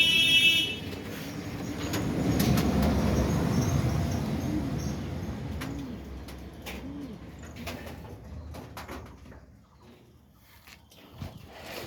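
Pigeons coo in a large pigeon house, a cluster of soft, throaty calls close by over a low rumbling background that thins out toward the end.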